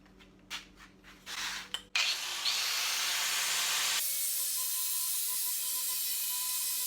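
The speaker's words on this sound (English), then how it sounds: "Obviously an angle grinder is not the right tool for this job, but I'm going to give it a try and see if it'll work." Angle grinder shaping the wooden handle of a pitchfork during a restoration: a steady, loud abrasive whine and rasp that runs continuously after some brief scraping bursts at the start.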